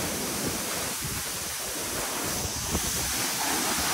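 Heavy water pours down at Baba Waterfall near Tillari, a steady, loud, unbroken roar of falling water with no pauses, filling the whole span close by.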